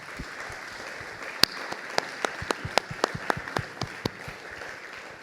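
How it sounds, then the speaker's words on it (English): A small audience gives a brief round of applause for a former basketball player moving into parasport, at an athletics talk; scattered individual claps ring out sharply, fairly close, with no voices over them. "can we just give him a quick round of applause"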